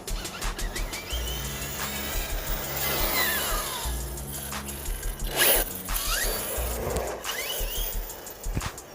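An Arrma Infraction RC monster truck whips through a 180-degree turn, its electric motor whining in quick rising and falling sweeps over gravelly tire scrabble and sharp clicks, fairly close and without talk.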